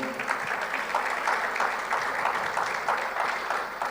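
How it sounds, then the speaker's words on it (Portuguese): A church congregation applauding, a sustained wash of many hands clapping at a steady moderate level, heard from a little distance with faint voices mixed in. "Você pode dar um aplauso ao Senhor?"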